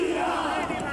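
São Paulo football supporters celebrating a championship on Avenida Paulista, a dense crowd roar of cheering and shouting that stays loud and steady throughout, with no clear single voice standing out.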